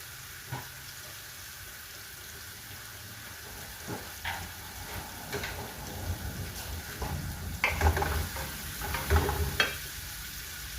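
Curry being sautéed in a pan with a splash of hot water, a soft continuous sizzle under intermittent scraping and stirring knocks that grow busier toward the end.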